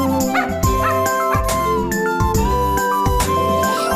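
Short, yappy puppy barks pop up repeatedly over a bright, busy musical backing that plays throughout.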